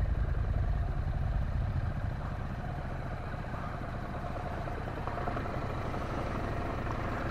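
A motorcycle eases away in first gear on the clutch alone, with no throttle. Its low, steady engine note idles close by, drops slightly after about two seconds and holds a soft, even rumble with no voices.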